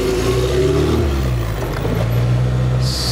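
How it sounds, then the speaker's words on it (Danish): Ford Mustang Mach-E AWD electric car driving: steady loud synthetic motor hum with a rising whine and continuous road and cabin rumble, with no talking. "Se, det var jo rigtig motorlyd."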